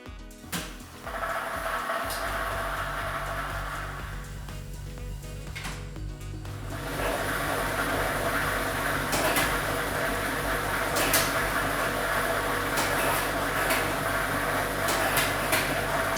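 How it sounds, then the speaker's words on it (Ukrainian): A lottery ball drawing machine starts up after a short quiet lead-in and runs with a continuous rushing, rumbling whir as numbered balls tumble and mix, growing fuller midway and holding steady. "І ми вмикаємо лототрон."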